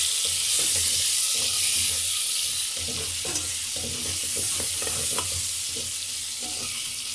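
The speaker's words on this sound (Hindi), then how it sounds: "इसमें प्याज शामिल कर देंगे और हम इन्हें गोल्डन ब्राउन होने तक पकाएंगे।" Onions sizzling and frying in ghee for chicken korma, a steady loud crackle with occasional stirring clatter throughout, no voices.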